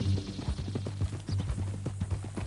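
Horse hooves clip-clopping steadily in Red Dead Redemption 2, a quick close rhythm of many hoof falls over a low hum, with no voices.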